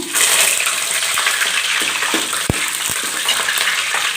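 Curry leaves and tempering seeds sizzle in hot oil while cooker sambar is being made, a loud steady frying hiss broken by a few sharp pops and crackles.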